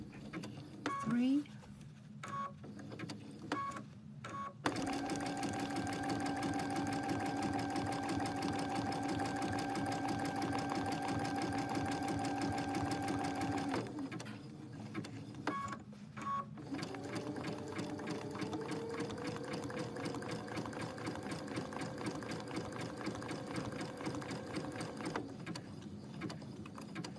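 Domestic sewing machine stitching a machine reverse applique, running in long steady whirring stretches broken by short stops, close and clear, while someone talks between runs.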